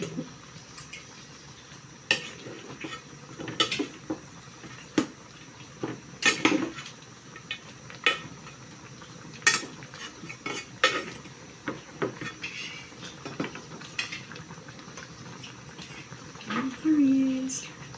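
A simmering dish is stirred in a pot, a spoon scraping and clinking against the metal in irregular bursts over a soft bubbling background, with a few louder knocks along the way.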